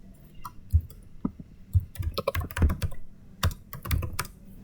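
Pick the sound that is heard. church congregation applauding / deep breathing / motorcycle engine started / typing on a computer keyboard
typing on a computer keyboard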